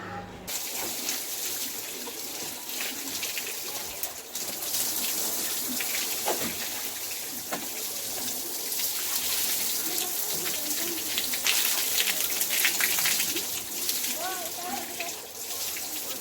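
Water splashes and pours steadily over a bicycle as it is washed outdoors, a continuous close, bright rush that swells and surges over about sixteen seconds with small clatters in between.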